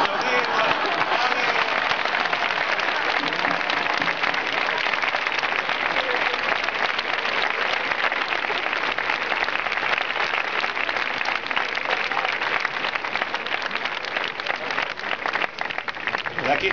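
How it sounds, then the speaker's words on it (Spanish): A concert crowd applauds a double bass player during a show, a loud continuous roar of clapping with scattered shouts and voices mixed in throughout. "pero vamos a aplaudir"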